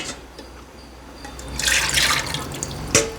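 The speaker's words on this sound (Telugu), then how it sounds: "మళ్ళీ మనకి ఎన్ని వాటర్ కావాలో అన్నీ పోసుకుంటే సరిపోతుంది" Water splashes and pours into chicken curry in a clay pot in a short burst midway, loud and close, followed by a faint drip and quiet background.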